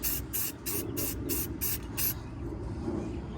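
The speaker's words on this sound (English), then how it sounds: "I just did a touch-up spray with the purple." Short bursts of purple spray paint hiss onto a car brake caliper during a touch-up, seven quick even puffs in a row followed by a faint lingering hiss, close and clear with no talking.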